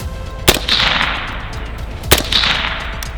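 Two suppressed 5.56 rifle shots through a Dillon suppressor with a solid end cap, each a sharp loud crack followed by a short hissing decay, spaced about one and a half seconds apart outdoors.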